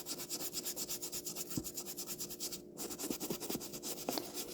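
Soft bristle brush scrubbing a cream-colored suede shoe, a rapid regular back-and-forth rubbing with quick strokes, close and fairly quiet, with no talk.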